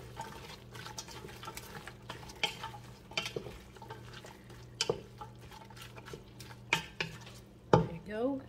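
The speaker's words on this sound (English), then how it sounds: "Stir it a little bit." A spoon stirs carrots, celery, onions and garlic in a pot for beef tripe soup. Irregular scrapes and clinks sound over a faint low sizzle and quiet hum, ending in a louder knock of the utensil against the pot.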